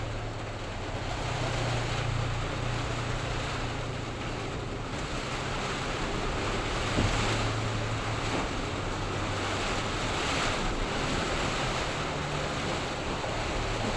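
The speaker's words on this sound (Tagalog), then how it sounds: "Kusog maing hangin, nak." Strong storm wind gusts steadily around a shop whose roof has been stripped of its sheets, a continuous broadband roar with rumbling low buffeting and no clear pauses.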